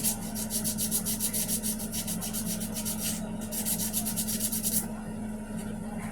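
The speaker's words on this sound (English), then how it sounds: "be extra careful when you're sanding them" Rapid back-and-forth scraping of sandpaper on small wooden model rocket parts, rhythmic and close, pausing briefly before continuing, then stopping.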